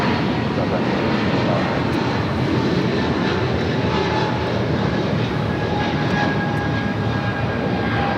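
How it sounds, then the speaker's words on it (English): Airliner jet engines roar continuously at Los Angeles International Airport, a loud, broad, steady rumble with faint tonal whine, while radio chatter and voices sound beneath it. "Looks like ANA possibly going to the north side for a takeoff"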